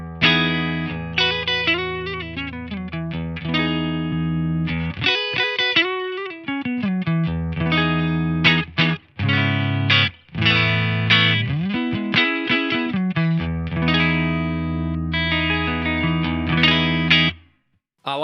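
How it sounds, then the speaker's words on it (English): A Stratocaster electric guitar plays a clean tone with a touch of reverb through a Boss GT-1000 effects unit, a sustained flowing passage of chords and single notes with brief pauses, no talking. "Here's a clean sound with just a bit of reverb."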